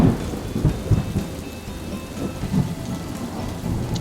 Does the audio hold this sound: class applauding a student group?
no